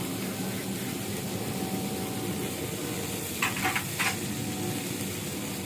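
Red chilli powder, turmeric and salt frying and being stirred in oil for a Bengali red Pabda fish curry with red amaranth greens, a steady soft sizzle with a few brief louder scrapes near the end.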